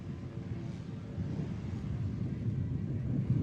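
A BLT STOL aircraft at a Rocky Mountain STOL competition takes off into the wind; a steady broadband engine roar mixed with wind buffeting swells slightly louder toward the end.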